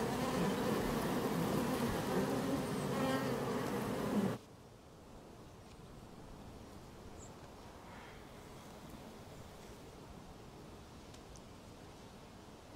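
Swarm of bees buzzing loudly and densely for about four seconds, then cutting off to a faint, quiet outdoor background with only sparse, distant buzzing.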